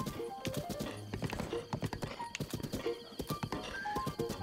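Horse hooves clip-clop in a quick, steady gallop across terrain in Zelda Breath of the Wild master mode, loud and close, with short neighs and game sounds mixed in.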